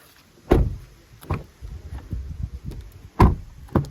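Car doors on a Citroen C3 Aircross shut with several solid thuds: a loud close, softer knocks and rattles between, then another firm slam near the end.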